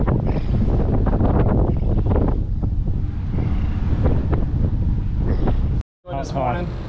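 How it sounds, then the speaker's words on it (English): Strong wind buffets the microphone in a loud, constant rush, with water and boat noise underneath and a brief dropout near the end, at a marina in Islamorada, Florida. "Hopefully this wind lays down."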